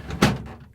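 A single short sliding thump as a plastic Samsung refrigerator crisper drawer is pushed into place, close and brief.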